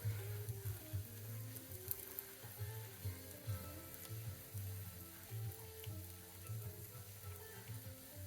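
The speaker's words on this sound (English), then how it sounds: "You just let it crisp on one side, flip it over, and you keep doing it until it's nice and evenly cooked" French toast frying in butter in a pan, a steady close sizzle with soft crackling and spitting that holds evenly throughout, no voices.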